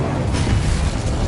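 Incendio fire spell cast in Hogwarts Legacy, a dense roaring burst of flame and rumble sustained at steady loudness for about a second, close and full.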